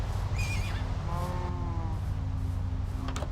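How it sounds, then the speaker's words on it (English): A white horse in Minecraft gives a clear, close whinny, a shaky high call followed by a lower, wavering neigh, over a steady background hum with no talking. "outside a white horse whinnies"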